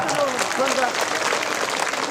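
At a Buddhist dhamma gathering, an audience claps after a poem is read, and a dense patter of applause runs under a voice speaking over it.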